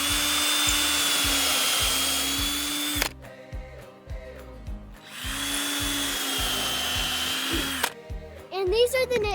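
Power drill driving screws into a split wooden fence board, two long whirring bursts with a pause between, followed by brief clattering and a few spoken words at the end.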